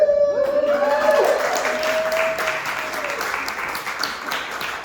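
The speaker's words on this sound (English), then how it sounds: "Clap for Lisa." An audience at a Sana Sana Social wellness gathering at Parsley Health claps for a woman, with a voice briefly whooping and cheering at the start before the steady clapping carries on alone.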